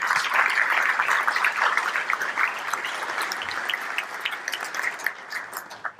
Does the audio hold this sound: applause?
yes